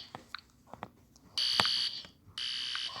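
A school fire alarm, pulled by hand, sounds in two loud, shrill electronic bursts of about half a second each, with short clicks and quiet gaps between them.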